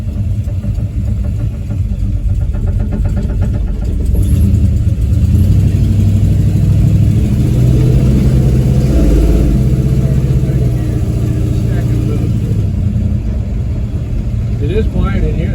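A 1970 Plymouth Fury III with a 440 big-block V8 rumbles loud and steady throughout, its revs swelling and easing with some harmonic rise, while voices talk intermittently over the engine.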